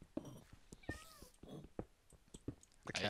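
A cat in the Weeping Angels co-op video game meows repeatedly, several drawn-out and plaintive calls spaced irregularly, fairly close and clear with no talk over them.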